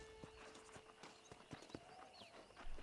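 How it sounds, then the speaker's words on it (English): In the video game Red Dead Redemption, horse hooves clop in an uneven series of distinct strikes over a quiet outdoor ambience, faint and at moderate distance. "let's see if we can't wrangle some horses"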